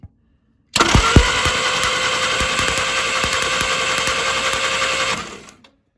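The engine of a 1947 Willys cranks over with the ignition on, a loud, steady rapid churning that starts abruptly and runs for about four and a half seconds before stopping.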